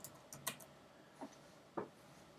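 A web address being typed on a computer keyboard: a handful of quiet, irregular key clicks, a few close together early on and then two isolated taps, over a faint background hush.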